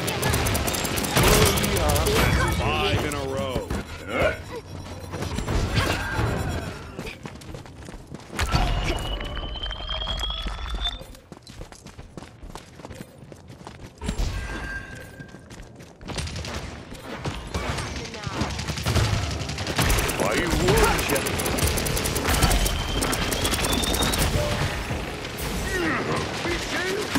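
Rapid mechanical gunfire and clattering weapon sounds from the video game Paladins, loud and nearly continuous in bursts across the whole stretch, mixed with game effects and some voice.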